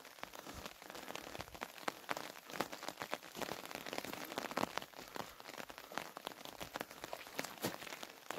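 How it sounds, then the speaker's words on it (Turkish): Steady rain falls at a green mountain house with a muddy yard. The patter on surfaces is dense and continuous, quiet and even, with crackling drops throughout and no voices. "Çünkü sabah erkenden beri yağmurumuz güzel bir şekilde yağıyor."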